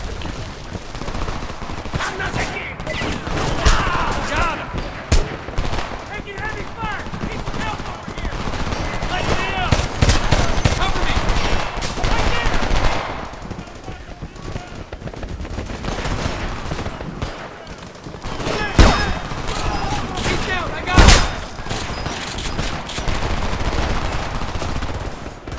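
Rapid machine gun bursts and scattered gunshots crackle loudly and almost continuously through a firefight in the video game Homefront, with shouted voices breaking in over the shooting.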